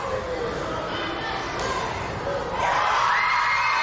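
Dense arena crowd noise at a wrestling show, steady cheering and shouting that swells louder near the end as fans rally behind the popular heavyweight champion.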